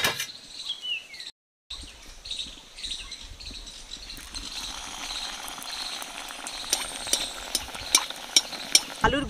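Potato balls fry in hot oil, a soft bubbling sizzle with stirring sounds, fairly quiet and close, with a few sharper clicks near the end.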